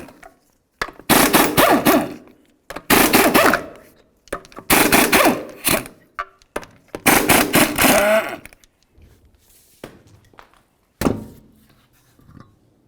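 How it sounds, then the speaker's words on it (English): An impact wrench removes the five 19mm lug nuts from the front wheel of a 2000-2005 Buick LeSabre, rattling in loud, close bursts of about a second each, four in a row, then a short final burst after quieter handling noises. "remove all 5 of your 19mm lug nuts and then the wheel"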